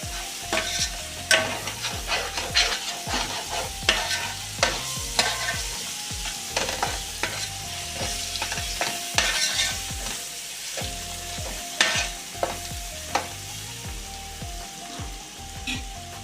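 A spoon stirs Andhra-style fish curry in a sizzling pan after pepper powder goes in, with repeated scraping knocks and clatters over a continuous fry hiss, close and fairly loud.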